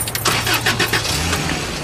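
A car engine cranks and catches, turning over with a rough rhythmic churn that settles toward a running idle, loud and close with no voices.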